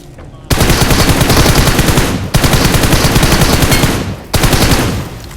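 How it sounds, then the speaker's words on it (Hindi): Enemy automatic gunfire in a shooter video game rattles in three long, loud, sustained bursts with short pauses between them. "पीछे वाला हमारे ऊपर फायर कर रहा होता है"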